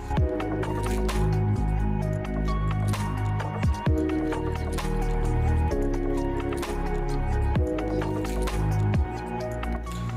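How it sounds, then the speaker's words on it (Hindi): Garlic fries in hot oil in a saucepan, giving a wet, crackling sizzle with bursts of popping throughout, under a continuous tonal backing. "उसमें गार्लिक दे दिया और गार्लिक को थोड़ा हल्का सा फ्राई करेंगे"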